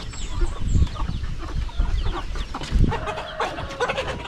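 Jersey Giant chickens cluck close by in a run of short, uneven clucks and low grumbles, with no talking.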